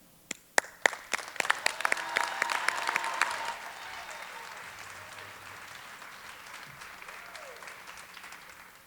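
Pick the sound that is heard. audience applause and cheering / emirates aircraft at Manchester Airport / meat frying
audience applause and cheering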